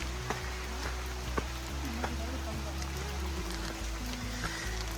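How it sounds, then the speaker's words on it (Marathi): Steady rain patters on surfaces with scattered drop ticks on a muddy trail up Tandulvadi Fort, under a low droning hum and some background voices. "पाऊस सुरू झाला आहे थोडा"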